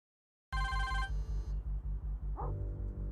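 A mobile phone rings inside a parked car, its bright tonal ringtone starting abruptly and repeating in a steady pattern over a deep pulsing low rumble that continues throughout.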